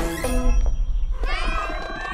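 A cat meows in Puss in Boots: The Last Wish, a short bright close-up call that stands out over a busy film soundtrack, with no speech.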